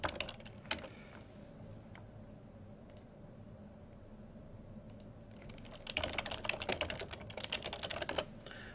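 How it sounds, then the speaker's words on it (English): Fingers tap out text on a computer keyboard at a desk, quiet scattered keystrokes early on, then a dense, steady run of close typing toward the end. "I'm going to type in how to get started"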